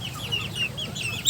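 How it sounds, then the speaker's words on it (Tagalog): Chickens cluck in a steady, overlapping chatter of soft calls, a small flock close by waiting to be fed. "Hindi ko alam kung anong tawag sa manok na yan."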